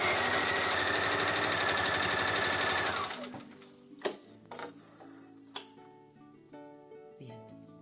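A freshly cleaned and oiled sewing machine runs in a fast, smooth whir for about three seconds, then stops, followed by a few quieter clicks and knocks as it settles.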